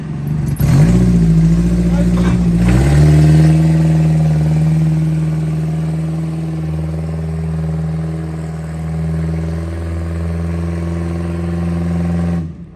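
A truck engine roars up and holds a steady, loud rev close by, with a rising pitch early on then a sustained drone.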